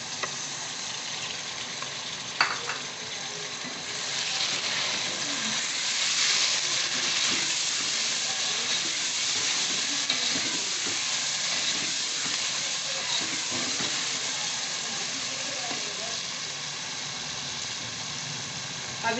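Chopped tomatoes hitting hot oil in a pan while cooking a mixed vegetable sabzi, a steady hissing sizzle that holds throughout with faint stirring clinks and a few brief soft words.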